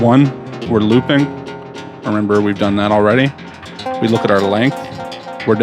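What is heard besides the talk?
No distinct noise like a dog, phone or traffic.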